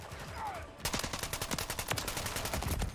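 Rapid bursts of gunfire from Call of Duty: Modern Warfare III, a steady rattle of repeated shots over about two seconds, loud and close in the game mix.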